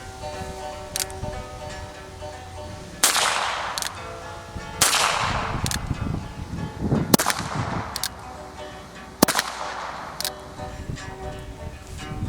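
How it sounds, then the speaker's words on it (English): A Ruger Single Six revolver fired two-handed, sharp single shots spaced a second or more apart, loud and close against a quiet outdoor background. "we're going to shoot two-handed with the single 6"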